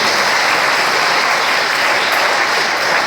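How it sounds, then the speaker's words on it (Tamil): Loud, sustained applause from an audience at an educational function in Chennimalai, a dense steady wash of clapping that holds evenly for the whole stretch with no voices over it. "அந்த விடியலை தரக்கூடிய சேகர் ஐயா அவர்களுக்கும் மிகப்பெரிய ஒரு கரகோஷத்தை எழுப்புமாறு அன்புடன் கேட்டுக்கொள்கிறோம்"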